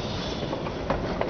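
Narrow gauge steam train of the Durango-Silverton line moving slowly at Silverton, Colorado, a steady low rumble of wheels and cars with a couple of soft clanks near the end, no talk.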